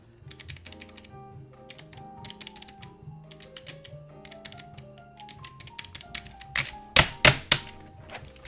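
Rapid tapping on a computer keyboard, a steady stream of close keystrokes that ends in several loud, hard key slams, with no voice over it.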